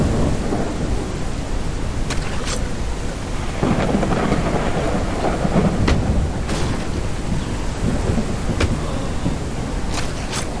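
A thunderstorm in the zombie survival game HumanitZ, with steady rain hissing throughout and several sharp thunder cracks and rumbles breaking through at intervals, loud and close.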